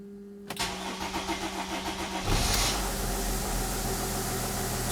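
A Mercedes / Dodge Sprinter van with a boost pressure regulator fault starts up with a cranking burst, then settles into a steady, close engine idle with no talking.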